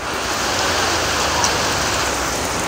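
Steady rain pours down in a street that floods quickly even after a short shower, a continuous, loud, even hiss of rainfall across the whole span with no voices.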